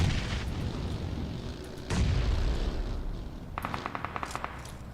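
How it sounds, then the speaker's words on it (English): A large in-game grenade explosion during a PUBG Mobile women's esports tournament final: one heavy boom with a sharp onset partway through, preceded by rumbling gunfire-like noise and followed by a rapid string of short clicks or shots. "cooking up some nades of her own, aimed outward at ARTIC 77K, and what a monster nade it was"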